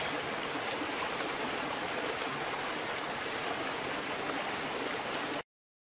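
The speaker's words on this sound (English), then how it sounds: "Smita, can you hear the sound of waterfall somewhere here" A forest waterfall roars in a dense, even wash of falling water, steady and fairly close, running unbroken before cutting off abruptly at the end.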